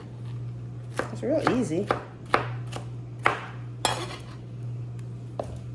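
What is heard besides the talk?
knife chopping pineapple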